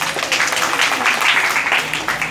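Audience applause at a speech gathering in Durgapur, West Bengal: steady, dense clapping from a crowd that continues evenly for a couple of seconds without pause.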